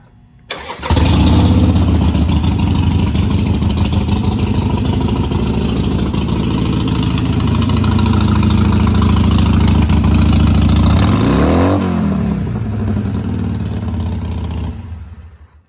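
A 2017 Harley-Davidson Sportster Iron 883 with Vance & Hines aftermarket exhaust fires up and settles into a loud, steady, lumpy idle close by, with a short blip of revs near the end before it shuts off.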